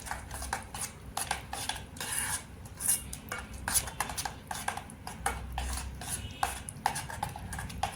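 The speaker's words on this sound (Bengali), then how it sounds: "মশলাগুলো আমি সুন্দর করে মিক্স করে নেব।" A spice paste is mixed with mustard oil in a bowl, with a spoon scraping and clinking against the sides in quick, irregular strokes, close and fairly quiet.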